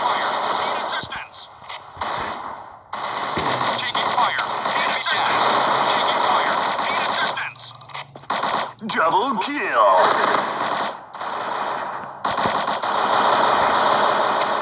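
HK417 rifle gunfire in the mobile shooter Point Blank Strike, loud and dense, with fast repeated shots and game effects throughout, and someone talking over the action.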